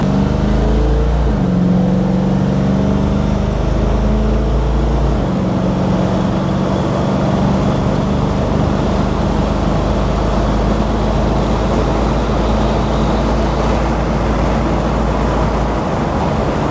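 A 1955 Cadillac restomod with a modern powertrain drives and accelerates through heavy traffic, its loud continuous engine and road roar rising and shifting in pitch, with no talk.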